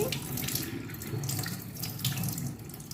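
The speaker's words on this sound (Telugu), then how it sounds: "నేను రెండు మూడు సార్లు శుభ్రంగా కడుక్కున్నానండి" Barley grains are washed by hand in water in a kitchen, a steady close swishing and trickling of water with soft rubbing and splashing throughout, with no talk.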